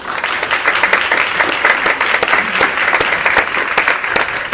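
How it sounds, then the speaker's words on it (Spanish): A loud, sustained round of applause for Diego Brugnoli rises from the crowd at a magazine launch, thick continuous clapping close and even throughout. "y que lo aplaudan."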